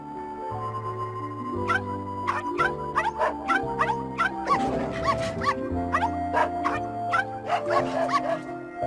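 Dogs in the Coraline video game bark in repeated yapping bursts over a looping musical score, the barks sharp and close with brief whimpering yips between them.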